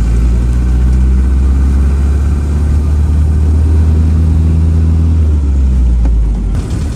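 A rare Citroën DS engine running, a loud, deep, steady rumble close by that holds evenly for several seconds before easing slightly near the end.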